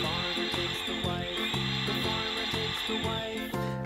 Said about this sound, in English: Here's a red power drill.